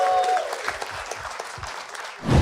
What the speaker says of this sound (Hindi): We'll start clapping for Piyush, Rishabh and Shrey.